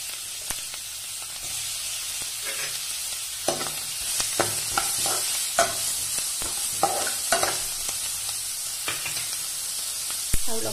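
Onions fry in melted butter in a wok, with a constant bright sizzle and hiss. A utensil stirs and scrapes the pan in repeated, irregular clacks close by.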